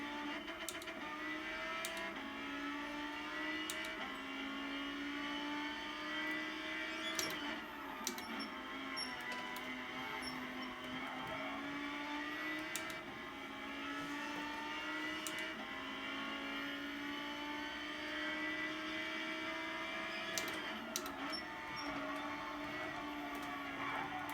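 A Lamborghini Gr4 race car laps Mount Panorama in GT Sport, its engine droning steadily with rising and falling pitch through gear changes, heard alone at a low, even level throughout.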